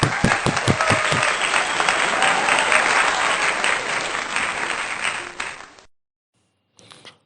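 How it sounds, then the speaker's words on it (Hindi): A church congregation applauds during an online Sunday worship service: dense, steady clapping close by for about six seconds, then it stops abruptly, with a brief faint rustle near the end. "तालियां।"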